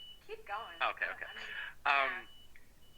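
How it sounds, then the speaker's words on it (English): A steady, thin electronic beep tone runs continuously under people talking during an Instagram Live broadcast, quiet and unbroken. "that beep being annoying, or should I just keep talking while it's going on?"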